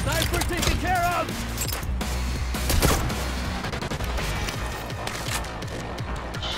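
Gunfire and booming combat in the video game Payday 3, including a sniper's shots, dense and continuous with crashes and blasts layered over game music.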